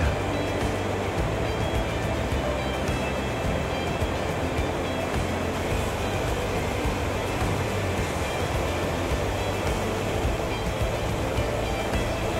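A clear, cold stream flows in midwinter at Juwangsan National Park in South Korea, near an icicle-hung waterfall, making a dense, continuous rushing wash of water that stays loud and even throughout.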